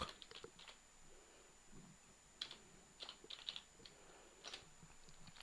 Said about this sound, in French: nous allons taper sur cette barre de filtre, nous allons taper network.http